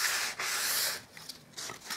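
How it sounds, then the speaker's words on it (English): Light hand sanding of a painted skirting board with P180 sandpaper: brisk back-and-forth scratchy rubbing strokes, close and fairly loud, in a few uneven passes with no talk. "It only needs a light sand."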